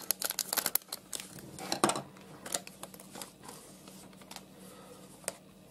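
A 2024 BBM GENESIS baseball card pack being opened by hand, with a few sharp crinkles and tearing bursts of foil wrapper in the first two seconds, then sparse quieter rustles and clicks close to the microphone.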